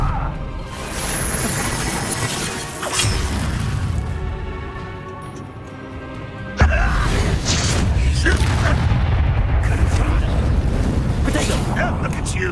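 Spell blasts in Hogwarts Legacy, a series of booming, crackling bursts layered over continuous game noise, with a heavy impact partway through and a voice speaking over it.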